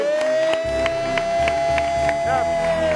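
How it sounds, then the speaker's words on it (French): Studio audience at a Wam broadcast applauds and cheers for Maté, a dense steady wash of clapping and crowd noise with a sustained musical tone running underneath throughout. "j'ai besoin de vos applaudissements s'il vous plaît pour Maté"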